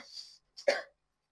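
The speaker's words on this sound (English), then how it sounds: "That cough will choke you forever." A short cough in two bursts, the second sharper and louder, close and dry, followed by silence.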